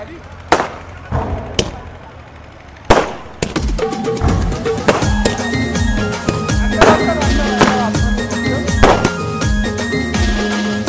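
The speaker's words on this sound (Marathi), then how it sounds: "आत फटाके लावतात" A handful of sharp firecracker bangs, irregularly spaced, burst over loud thumping dance music and a busy crowd with people talking at a Maharashtrian wedding.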